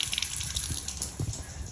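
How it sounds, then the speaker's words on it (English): A sink tap running with low water pressure in a condo, a quiet uneven trickle and splashing with small spurts, no voices. "Some more issues, such as low water pressure at the sink,"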